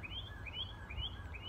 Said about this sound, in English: Sorry for the birds, I'm outside.